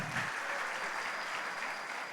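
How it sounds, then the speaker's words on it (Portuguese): Steady applause from a church leadership training crowd, a dense even patter of clapping that fills the whole short stretch without pause. "Então palmas para o nosso anfitrião em nome de Jesus."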